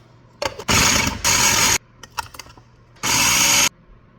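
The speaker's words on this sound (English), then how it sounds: "And then we're going to grind this all up." An electric grinder chops garlic and other ingredients for potato and cheese pies in a home kitchen. It runs in three loud, steady bursts, with short rattles and clicks between them and no talking.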